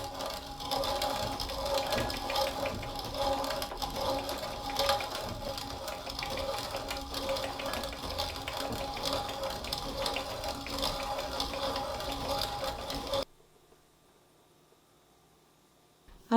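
A hand-cranked manual grain mill clamped to a table grinds wheat berries into flour, giving a steady, loud grinding rasp with a rhythmic mechanical churn for about thirteen seconds before it stops abruptly into near silence.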